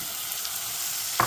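Shrimp frying in garlic butter, heard as a dense, steady close-up sizzle with a short clink of a utensil near the end.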